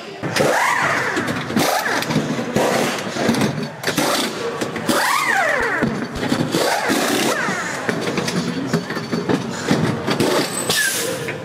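LMP2 prototype race cars at the 24 Hours of Le Mans scream past one after another, each loud pass rising and falling in pitch, over a continuous roar of engines.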